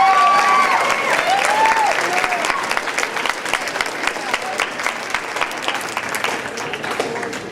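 Applause for students at the Evans High School band awards ceremony, a full crowd clapping steadily with a few faint cheers, brief speech at the start fading under the hands.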